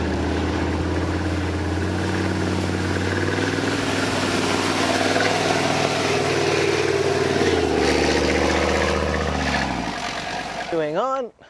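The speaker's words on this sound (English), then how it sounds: "Under this grill is the 820 horsepower MTU designed diesel engine with 10 valves." A Leopard 1A5 tank's 820-horsepower MTU diesel engine runs as a loud, steady, deep drone that gradually lowers in pitch before a short wavering rise and an abrupt cutoff.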